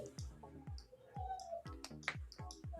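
Rapid, crisp computer mouse clicks at a desk, a dozen or so sharp clicks in an irregular run, close and fairly quiet.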